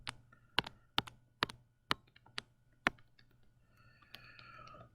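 Rapid tapping strikes of something erasing writing from a board, a cluster of sharp clicks in uneven rhythm, fairly close and quiet, with faint rubbing toward the end.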